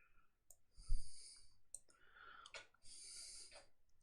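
Computer keyboard keys click in a few separate, close taps and short bursts, fairly soft and uneven in rhythm, alone without talk.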